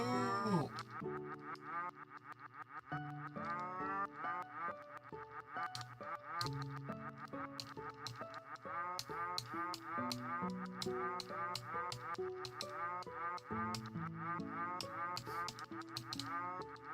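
A cow moos repeatedly in the Panzer Dragoon Zwei video game, with long lowing calls sounding steadily over continuous game music and effects.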